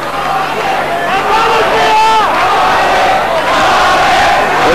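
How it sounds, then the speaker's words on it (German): A boxing arena crowd at a Alex Zeh versus Ralf Rocchigiani fight chants in unison, a loud, continuous roar of massed voices holding steady across the whole moment. "Und die Zuschauer im Chor Alex, Alex."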